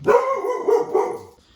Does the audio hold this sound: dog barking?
yes